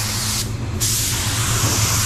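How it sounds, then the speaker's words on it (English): Paint spray gun at 30 psi coating a car body, a steady loud hiss running throughout with a short break as the trigger is released and pulled again, a low hum beneath. "So I'm spraying at 30 psi,"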